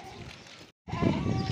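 Sheep bleating at a livestock sale of 47 lambs in Kalaat Sraghna, with short bleats amid nearby crowd noise, broken by a brief silence before louder, busier sound returns.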